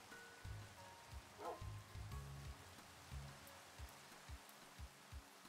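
Rain falls steadily in modded Minecraft, a soft hiss under a series of muffled thumps and clicks from gameplay.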